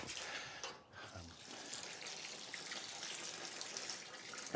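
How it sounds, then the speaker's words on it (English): Water from a can is poured onto potted plants in a garden, a soft splashing and trickling with brief pauses that runs on quietly to the end. "Give them each a little bit of water."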